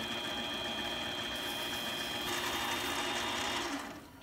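A lathe hums and whirs steadily while steel wool rubs paint off a spinning wind vane part of a model build, a constant mid-level drone that brightens partway through and then trails off.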